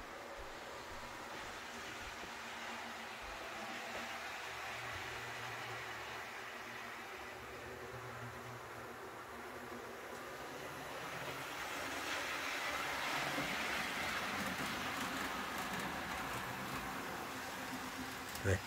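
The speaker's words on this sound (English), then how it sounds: "That clickety clack sound." A model Pennsylvania Railroad GG-1 locomotive pulling Tuscan Red heavyweight passenger cars rolls past with a steady, fairly faint rumble of wheels on track that swells slightly midway.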